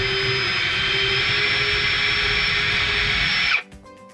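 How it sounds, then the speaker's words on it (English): A drill whines steadily at high speed for several seconds, boring a pilot hole into wooden furniture, close and loud, then spins down and stops with a light clatter. "I'm just going to drill in now"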